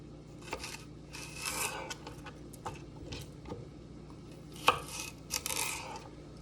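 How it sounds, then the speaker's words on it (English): A knife chops celery on a cutting board in quick, uneven bursts of crisp close taps, with short pauses between runs and one sharper knock near the end. "And then we are going to just do a nice chop."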